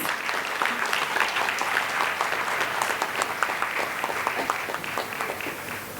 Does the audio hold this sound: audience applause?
yes